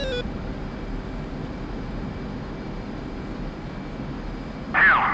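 In a video game, a fighter jet's engine hums as a steady, mid-level drone after the afterburners cut, with a brief brighter chirp near the end.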